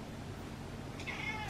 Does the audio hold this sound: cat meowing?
yes